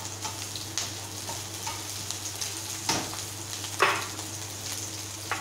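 Green chili frying in hot oil, a constant close sizzle broken by a few soft scrapes and taps of stirring, with a low steady hum underneath.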